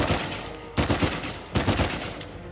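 Automatic gunfire in the video game Uncharted 4, loud rapid bursts of shots that come in two clear surges over a steady din of continuous firing.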